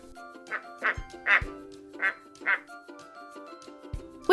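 A duck quacks five or six times in a loose, uneven rhythm, bright and close, with faint background music underneath.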